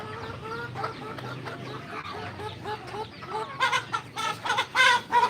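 Chickens cluck close by while being fed, a busy run of short calls that grows louder and denser toward the end, with no talk over it.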